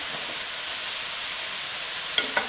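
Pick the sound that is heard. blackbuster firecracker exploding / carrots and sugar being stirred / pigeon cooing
carrots and sugar being stirred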